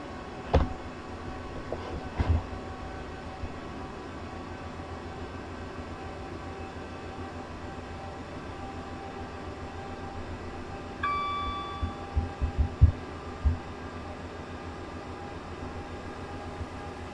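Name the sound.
Gatwick Express train running, from Train Simulator video game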